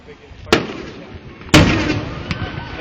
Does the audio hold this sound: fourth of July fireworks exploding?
yes